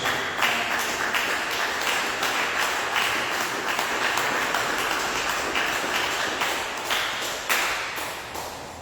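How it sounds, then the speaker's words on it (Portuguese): A church congregation claps joyfully during a service, a long loud round of hand claps with sharp, rhythmic accents standing out from the crowd, close and sustained before easing off at the end. "Desocupe as vossas mãos e dê uma salva de palmas bem alegre para Jesus."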